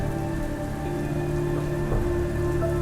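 Steady rain patters and hisses throughout a scene in the film Se7en, with a low sustained tonal drone underneath and no voices.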